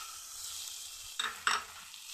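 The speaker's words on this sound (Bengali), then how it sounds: "আদা আর কাঁচা লঙ্কাটা আমার ভালো করে ভাজা হয়ে গেছে। এখন আমি এখানে হলুদ গুঁড়ো আর জিরে গুঁড়ো দিয়ে দিচ্ছি।" Ginger and green chili fry in a pan with turmeric and cumin powder added, giving a faint, steady sizzle broken by two louder stirring scrapes near the end.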